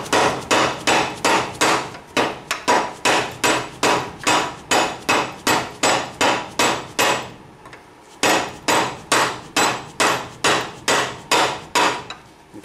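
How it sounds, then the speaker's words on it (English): A dead blow hammer strikes a socket to drive a wheel bearing into a Banshee hub: about two dozen sharp, evenly spaced blows fall in two long runs separated by a brief pause. "Take a dead blow, or if you have bearing or seal drivers, that's even better."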